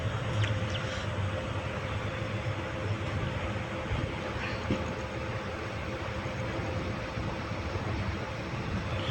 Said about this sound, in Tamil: இப்போ ட்ரெயின் பாருங்கள்,